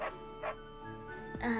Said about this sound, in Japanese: あとすごい犬がうるさいね